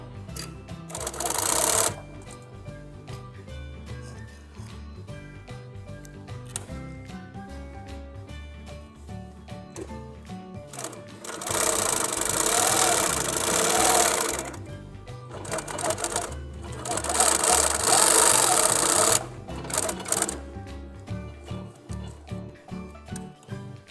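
Jack 58450C-003 double-needle sewing machine with needle locking, running in bursts of fast stitching with louder stretches midway, close and steady, with no talking over it.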